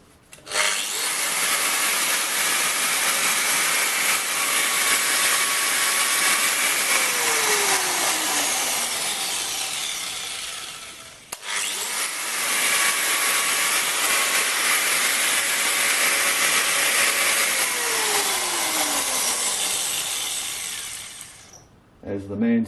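A power tool with a cutting disc test-runs in a workshop, a loud continuous whine that spins up, holds, then winds down with a falling pitch, repeated twice with a brief pause between.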